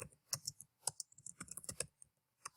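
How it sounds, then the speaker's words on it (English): Quick, close clicking keystrokes on a computer keyboard, in short irregular bursts with brief pauses, faint and alone. "now it's going to let us type"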